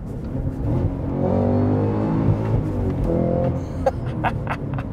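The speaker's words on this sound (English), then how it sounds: "I'm gonna downshift a couple times." A manual Cadillac CT5-V Blackwing sedan, a 668-horsepower car, blips its engine in rev-matched downshifts, loud and close from the cabin, with rising and falling revs that settle and then fade near the end.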